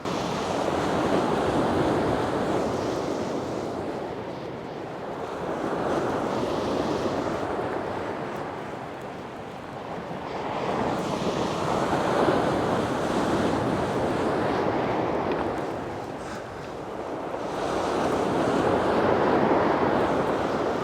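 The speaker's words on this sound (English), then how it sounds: "There's a lovely swell on the water." Heavy sea swell surging onto the shore during Storm Henk, a continuous loud roar that rises and falls in slow waves every few seconds, with wind buffeting the microphone and no voices.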